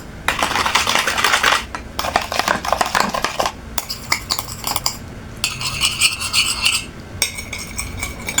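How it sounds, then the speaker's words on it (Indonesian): A spoon briskly stirring noodle sauce with soy sauce in a bowl makes loud, close, continuous scraping and rasping in repeated bursts with short pauses between. "Kecap sedikit. Kita aduk-aduk di sini ya."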